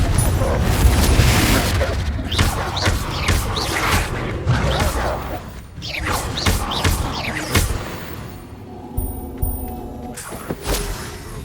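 Spell blasts and explosive booms from combat in Hogwarts Legacy, a fantasy video game, with a Confringo fire spell going off among heavy thuds and rumbling impacts, over game music and sporadic voices.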